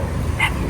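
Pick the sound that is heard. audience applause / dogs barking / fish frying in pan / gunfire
dogs barking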